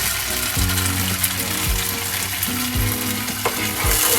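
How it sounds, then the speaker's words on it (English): Schezwan pasta is stirred in a frying pan, with sizzling and several scraping, clattering stirs close by and no talking. "Now stir it."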